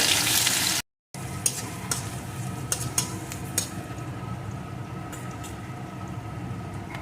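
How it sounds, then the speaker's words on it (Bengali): Chopped onion fries in a pan with a steady close sizzle, scattered sharp crackles and occasional spatula taps, after a loud hissing burst at the start and a brief silence. "পেঁয়াজ কুচিটাও একটু ভেজে নেব"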